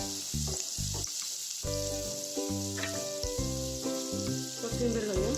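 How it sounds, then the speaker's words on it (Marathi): Onions fry lightly in a pan for a gobi paratha, a soft, steady sizzle running beneath prominent background music with sustained tones. "कांदे घालूया। कांदे जास्त पण आपल्याला शिजवायचं नाहीये, थोडासा हलकासा गरम करायचा आहे।"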